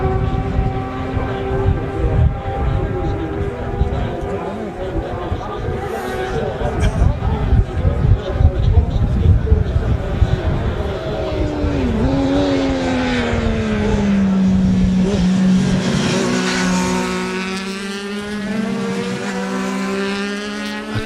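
Racing motorcycles in the Manx Grand Prix junior race roar loudly and continuously, with rising and falling engine tones as a group dashes down a hill, while a commentator talks over them throughout.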